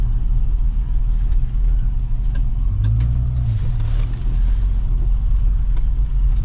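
A 1976 Chevy Nova drives along with a steady low engine rumble and road noise throughout, with a brief rise in engine tone midway; no one speaks.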